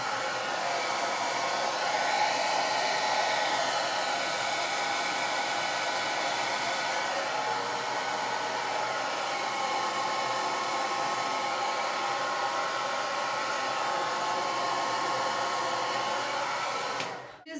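A hair dryer runs without a break while blow-drying thick, frizzy, curly hair, a loud, steady close-up whoosh that shifts slightly in tone as it moves, then cuts off at the very end.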